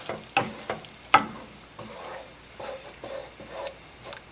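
Tomato sauce being stirred into a pan of stuffed-pepper filling, with intermittent scraping and clinking of the spoon and a faint sizzle, fairly quiet and close.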